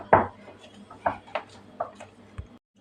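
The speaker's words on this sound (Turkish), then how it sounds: "Şöyle ben bir güzel karıştırayım." Cake batter is stirred in a bowl, and a spoon knocks against the side in about five separate, irregular clinks and taps with quiet pauses between them.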